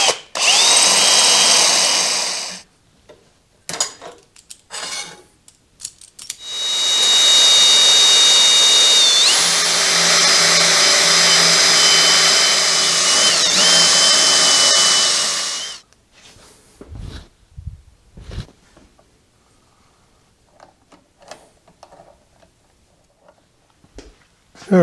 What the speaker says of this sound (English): I had to enlarge the holes very slightly in that to get it to be square, drilling by hand